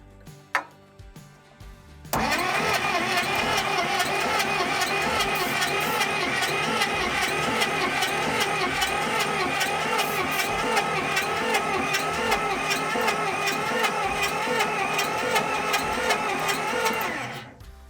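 An old car engine started for the first time in 12 years runs continuously and loudly after a few clunks, with a steady rough mechanical clatter that lasts about fifteen seconds and then cuts off.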